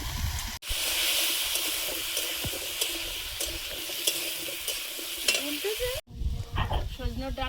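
Potatoes sizzle loudly in hot oil in a pan, a continuous frying hiss with light stirring scrapes, before the sizzle cuts off and quieter kitchen clatter follows.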